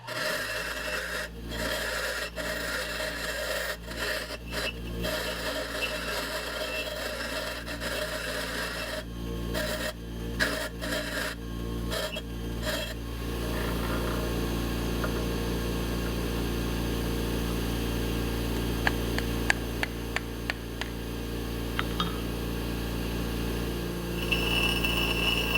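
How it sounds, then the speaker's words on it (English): Angle grinder wearing down the head of a steel nut during hydraulic repair work on an old Caterpillar dozer, a steady continuous abrasive grinding that runs the whole time with brief interruptions early on. "I'm going to grind the head of the nut down so that it'll fit into that tube"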